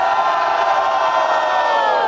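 A crowd at a rap battle cheers and shouts loudly and continuously, with voices whooping together in a dense, sustained roar.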